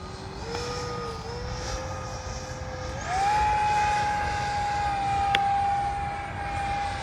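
A T-33 jet model with a 50 mm electric ducted fan cruises past overhead, its steady whine climbing in pitch and growing louder midway, then holding a sustained tone over faint wind.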